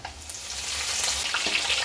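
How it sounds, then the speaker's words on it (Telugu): Garlic and curry leaves tempering in hot oil over a low flame, a steady close crackling sizzle with small pops throughout. "కొద్దిగా తాలింపుని ఇలా లో ఫ్లేమ్లో పెట్టి వేపుకుంటూ"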